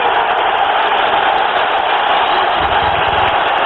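A packed football stadium crowd roars loudly and continuously as the Giants defense urges fans to their feet during the 1998 Denver Broncos at New York Giants game.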